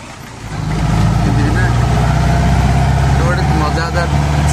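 Jeep climbing uphill on a ride in Coorg, its engine growling as it picks up and then holds a loud, steady drone close by, with voices heard over it.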